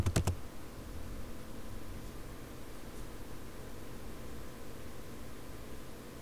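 A computer keyboard clatters in a short quick burst of typing at the very start, followed by quiet room hiss with no further keystrokes.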